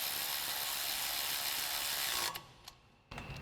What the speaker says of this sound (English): Go ahead and tighten that down with our 8mm socket.